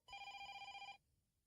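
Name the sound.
telephone ringing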